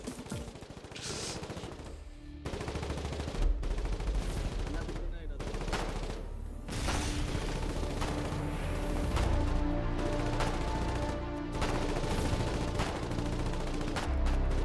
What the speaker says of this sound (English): There's another machine gun, another machine gun.